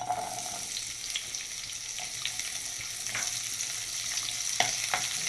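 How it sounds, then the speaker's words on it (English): Chopped onion sizzles steadily in heated olive oil in a pan, a continuous bright hiss broken by a few light stirring clicks, close and alone with no talking. "Once the oil is heated we can add onion."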